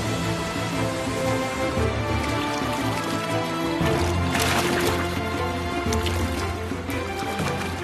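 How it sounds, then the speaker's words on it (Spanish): Foaming rapids where the Nile River flows north from Lake Victoria, a dense continuous rush and splash of churning water, loud and steady throughout with no voices. "el Nilo cobra vida, fluyendo en cascadas sobre espumosos rápidos rumbo al norte"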